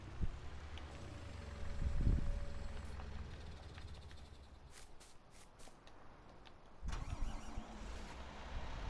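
A farm tractor engine cranks and catches with a brief low rumbling surge, then settles into a steady, muffled running noise under a rough background.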